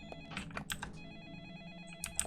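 Telephone ringing in the video game Deadly Premonition, a repeated electronic ring in short bursts with game sounds around it and no talking.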